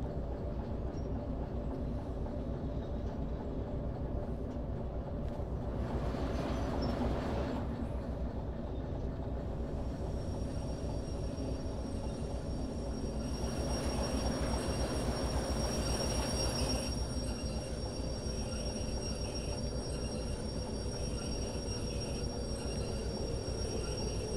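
Two locomotives in the Derail Valley train simulator rolling along the rails, a continuous rumble of wheels on track with two stretches of louder clattering and a high steady whine throughout.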